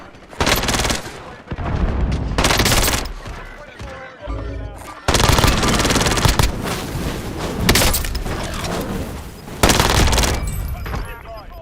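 Video game combat with rapid automatic gunfire and heavy precision airstrike explosions, loud bursts and booms in several waves, with some speech mixed in.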